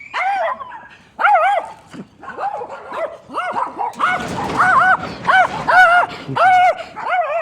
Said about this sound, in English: Doggies!